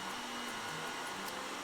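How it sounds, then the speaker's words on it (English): A hairdryer blows steadily to dry a wash coat of paint brushed onto a Silent King miniature model, a continuous airy whir held at an even, fairly quiet level throughout. "Just using the hairdryer, drying all that down so we can get our second wash coat on"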